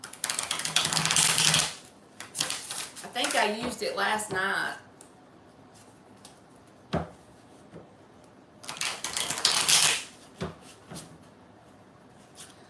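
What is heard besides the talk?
shuffling a deck of cards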